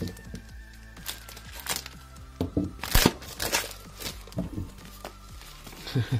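Cardboard packaging is pulled and torn open while unboxing an Abxylute One handheld, giving close, irregular crinkles, rips and sharp cracks in uneven bursts.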